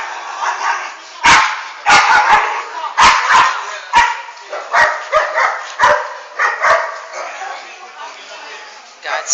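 A distressed dog barks and yelps in sharp, irregular bursts, some in quick pairs and clusters, loud and close, with whimpering tones between them.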